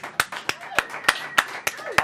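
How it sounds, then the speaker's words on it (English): A few sharp, separate claps spaced roughly evenly, close and fairly loud, with faint voices in the background. "Give a round of applause there."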